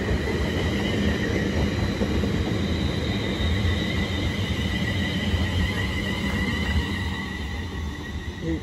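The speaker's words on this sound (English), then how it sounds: "The 9:42 London North Western Railway service from Birmingham." A London Northwestern Railway passenger service from Birmingham passing through Northampton station, a steady, loud rolling rumble of wheels on rails that carries on unbroken and eases slightly toward the end.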